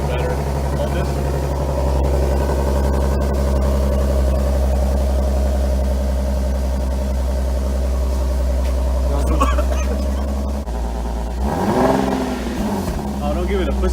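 A Nissan 370Z with test pipes installed idles with a deep, steady exhaust drone, then is revved near the end with a rising and falling engine surge, while people talk nearby.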